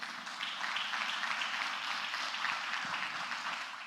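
A church congregation applauds together in a faint, dense patter of clapping that holds steady for a few seconds without talk.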